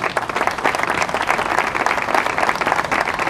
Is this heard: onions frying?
no